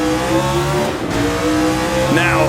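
A Gilles Villeneuve-era Formula 1 race car in Assetto Corsa screams through the gears, its engine pitch climbing, briefly dropping at a shift, then rising again, loud and close with a short tyre squeal.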